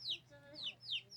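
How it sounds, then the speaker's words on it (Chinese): Small chick calls repeat three or four times in quick descending chirps, close and faint, with a low hum underneath. "这是小鸡妹妹的声音啊。"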